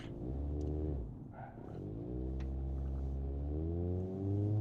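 A Bruckell LeGran SE convertible's engine in BeamNG.drive, running hot near overheating, drones with a steady harmonic hum, dipping briefly and then pulling up again as it revs through gears at close range.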